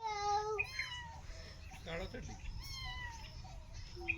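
A small cat meows outdoors in a village, several high, wavering calls at close range, with people talking over and between them.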